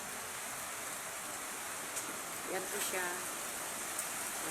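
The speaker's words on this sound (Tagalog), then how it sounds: "Ito po, mahangin na maulan sa gabing ito." Steady rain hiss at night with a gusty wind wash throughout, a brief voice speaking softly partway through.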